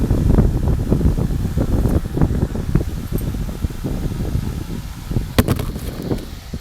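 A fan blows hard during work on a 1992 Mitsubishi Galant, producing gusty, buffeting wind rumble against the microphone in uneven surges, with no speech.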